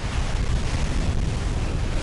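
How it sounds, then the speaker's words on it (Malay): Strong wind and crashing surf at a Malaysian seashore, a constant heavy roar with wind buffeting the microphone throughout and no voices. "Wah, kuat angin."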